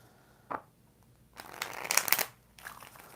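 Tarot cards are shuffled by hand in a quiet room, a brief flick followed by a longer riffling burst and another short shuffle, soft and close.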